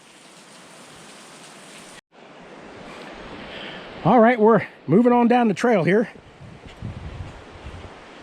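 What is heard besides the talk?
running water near a trail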